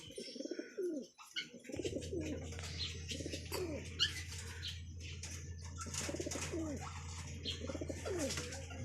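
Pigeons, including blue bar racing birds, coo and call at a derby loft, soft repeated hoots over a steady low hum with scattered chirps and a brief flutter of wings.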